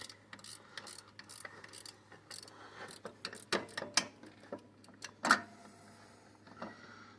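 Hand ratchet clicking in uneven bursts on a BMW tensioner pulley bolt, light metallic ticks with a few sharper louder clicks, close up and fairly quiet, no talk.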